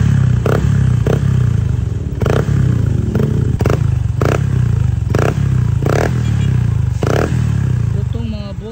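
A motorcycle fitted with an Apido exhaust pipe idles and runs at low RPM, a loud, rough, continuous rumble broken by repeated sharp popping bursts.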